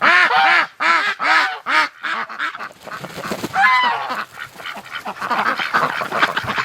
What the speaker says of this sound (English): She was quacking away behind the night.